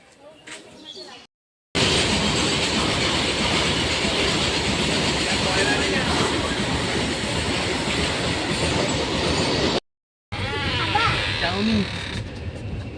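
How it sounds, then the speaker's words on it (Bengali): A train rumbles loudly along the tracks with rhythmic clattering wheels, preceded and followed by quieter stretches where voices can be heard. "আমাদের ট্রেন ছেড়ে দিছে"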